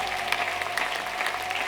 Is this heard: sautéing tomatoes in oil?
no